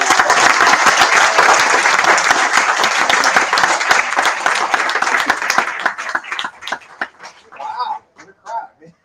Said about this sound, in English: another giant round of applause for our fantastic